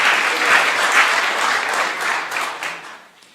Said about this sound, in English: I think a huge round of applause to our IT team staff at the Saginaw Chippewa Indian Center